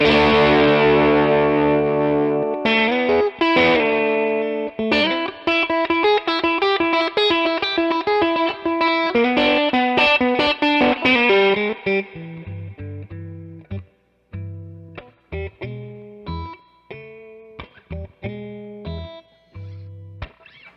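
Loud overdriven electric guitar plays sustained ringing chords, then shifts to choppy, muted stabs with short gaps between them, no one speaking.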